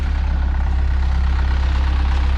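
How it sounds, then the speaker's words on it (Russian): A tour bus in Hurghada, Egypt, idles steadily as it pulls up, with a loud, close, continuous low engine rumble and a throbbing pulse and no voices. "Так, ребята, вот подъезжает наш автобус."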